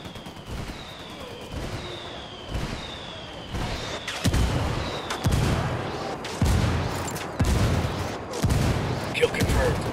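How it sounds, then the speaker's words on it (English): Rebel mortar fire called in during Ghost Recon Wildlands, a series of heavy booming impacts at steady intervals, each with a low thud and rumbling tail, growing louder over several seconds. "I called the rebels for mortar fire"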